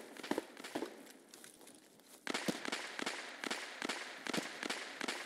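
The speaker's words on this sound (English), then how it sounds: "That sounds like a scav shooting at a PMC" Distant AI scav gunfire aimed at a player in Escape from Tarkov, heard as a faint series of sharp, cracking shots, sparse at first and then in a fairly regular run of single reports over a low background.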